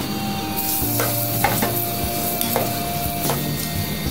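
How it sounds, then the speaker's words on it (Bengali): A spoon scrapes and stirs halwa with fried nuts and raisins in a pan, a soft sizzle running underneath as several distinct scraping strokes come at irregular intervals, close and moderately quiet. "একটু নেড়ে মিশিয়ে পরিবেশনের জন্য হালুয়াটা রেডি"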